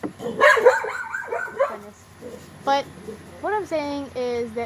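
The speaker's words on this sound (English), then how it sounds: "I'm sorry about the dogs." Small pet dogs bark and yip in a few short bursts between stretches of a person talking indoors, the barks close and fairly loud.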